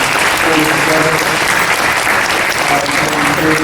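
Applause from the audience at a school district board meeting, a dense, steady clapping that stays loud and unbroken for nearly four seconds, with a few faint voices mixed underneath.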